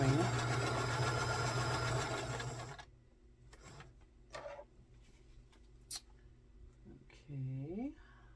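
Sewing machine stitching through quilt fabric, a steady dense mechanical whir for about three seconds, then it stops and only quiet handling noises and a short voice remain.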